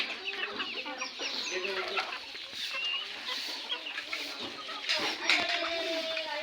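Desi hens cluck and chatter on a poultry farm in the evening, a close flock of overlapping soft calls with brief louder squawks, and someone talks over them.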